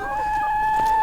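A farm flock of chickens clucks close by, a short burst of loud, tonal hen calls held steady with no talk.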